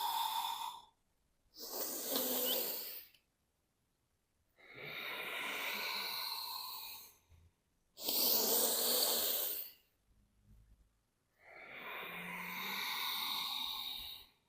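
Slow, deep exhalations during yoga cat-cow, five long breaths separated by short pauses, close and alone with no talking.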